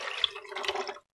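Manchurian spice mix dissolved in water is poured into a gravy, giving a brief, close splashing trickle of liquid that lasts about a second and then stops abruptly.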